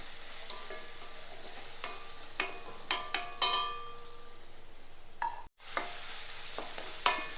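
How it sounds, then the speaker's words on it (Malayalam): Garlic, ginger and green chillies sizzle steadily in hot oil for a mussels fry, with sharp scrapes and clinks of stirring at irregular moments and one brief dropout near the end. "പച്ചമുളക് ഇട്ട് കൊടുക്കണം ഇത് നല്ലോണം ഇളക്കി കൊടുക്കുക"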